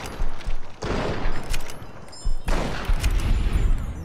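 Gunfire in Fallout: New Vegas, a loud burst of shots followed by a second rapid volley, close and sharp with rumbling tails.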